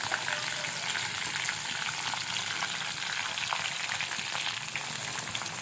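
Curry leaves and cut green chillies frying in a pan, a steady, dense sizzle and crackle that holds evenly throughout, close and unaccompanied by speech.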